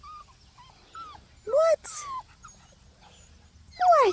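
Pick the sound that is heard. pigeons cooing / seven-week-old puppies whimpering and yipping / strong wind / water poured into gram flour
seven-week-old puppies whimpering and yipping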